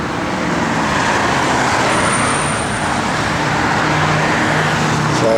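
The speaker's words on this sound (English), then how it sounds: "So much traffic out here." Steady road traffic passes by outdoors, a loud continuous rush of cars and heavier vehicles with no break, no talking.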